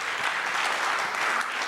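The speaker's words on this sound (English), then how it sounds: "Let's give them another round of applause." Audience at an international entrepreneurship conference applauds its session speakers, a steady, even wash of many hands clapping throughout the short stretch.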